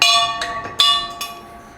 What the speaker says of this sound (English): You don't finish the reps, you gotta ring the bell